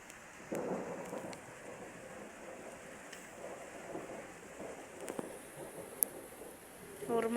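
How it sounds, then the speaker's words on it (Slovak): Thunder rumbles through a storm, with low broadband rolls and a couple of sharper cracks over steady rain-like hiss and wind, moderately distant. "Normálne hrmí."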